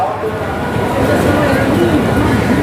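A train at Kasimbazar station, bound for Sealdah, gives a loud, steady rumble throughout, with faint voices murmuring in the background.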